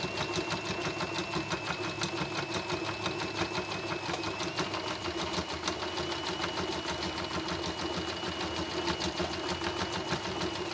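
Overlock serger stitching cloth pads, a close, steady rapid whirring with fast rhythmic needle clatter running continuously.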